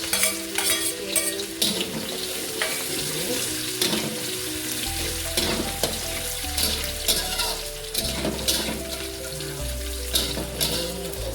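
Mushrooms stir-fried with anchovies, garlic and shallots in a pan, a loud busy sizzle with repeated scraping stirs and clinks, close and continuous with no talking.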